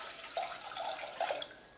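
Roughly a liter of water poured into a pot for a homebrew yeast starter, a faint, soft, continuous splashing trickle with small gurgling bursts, quiet and close.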